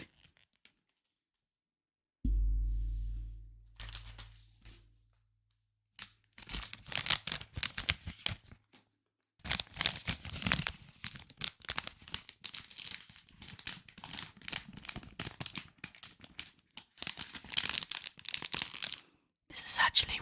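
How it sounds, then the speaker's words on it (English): Plastic packet rustled for ASMR: an initial low thump, then sustained crinkling and crackling bursts in irregular waves, close and fairly loud throughout. "Some rustling plastic."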